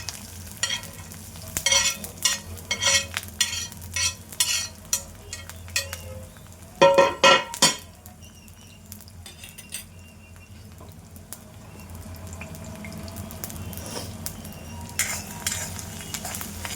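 Garlic frying and being stirred in cow ghee in an iron kadhai, with a soft steady sizzle under repeated scraping and clinking of a spoon against the pan, busiest in the first half and quieter later.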